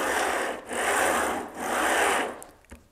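A trim router sled glides back and forth along parallel rods in a rubbing, scraping whoosh, two long strokes up close, then fading into a few light knocks.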